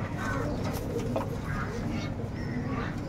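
Pigeons of the KTM breed give low, soft coos in a shed while one bird is handled, a steady murmur of cooing under faint background noise.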